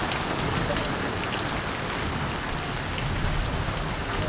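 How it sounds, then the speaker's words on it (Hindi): Heavy rain pours steadily in Lahore, a dense, even hiss of downpour on surfaces, close and continuous throughout with no clear break. "बहुत तेज़ बारिश हुई है माशाल्लाह।"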